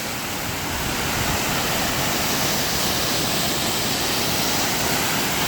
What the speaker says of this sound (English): I'm sure you can hear the sound of the rushing water